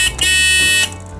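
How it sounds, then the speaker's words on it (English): A model elevator's alarm buzzer gives one loud, harsh electronic blare that holds for most of a second and then cuts off sharply, with no voices. "we can hit the alarm"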